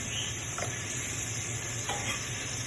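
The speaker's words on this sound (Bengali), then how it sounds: "এখন মশলাটাকে আমি সুন্দর কষিয়ে নেব" Spice paste with chili powder, turmeric and salt sizzles steadily in a hot pan while being stirred, a continuous close frying hiss with a couple of soft scraping strokes.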